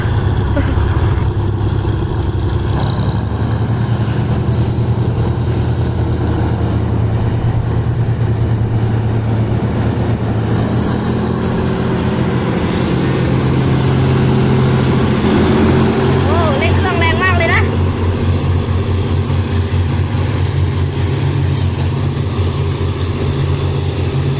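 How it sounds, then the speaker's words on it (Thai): GEK 4023 diesel locomotive hauling ordinary train 254 revs its engine as it pulls out of Ratchaburi station, a steady loud low rumble that swells midway, with someone talking over it. "คุณปู่เร่งเครื่องออกจากสถานีราชบุรีแล้ว"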